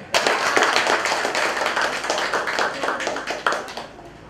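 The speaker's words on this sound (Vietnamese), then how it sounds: "cách một tràng vỗ tay đi" A crowd of guests at a Vietnamese wedding ceremony claps steadily and loudly for several seconds, a dense wash of hand claps that fades out at the end.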